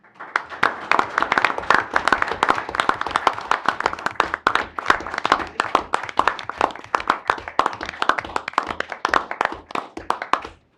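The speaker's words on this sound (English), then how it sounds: "let us give them a round of applause" Attendees at a city council meeting give a family a round of applause, a dense, sustained burst of many hands clapping that holds steady for about ten seconds before fading out.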